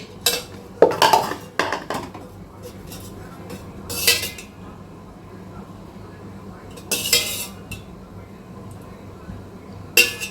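A metal kadai is set on a stove with loud, close clanks and rattles. Scattered clinks of utensils follow in bursts, with quieter gaps between them.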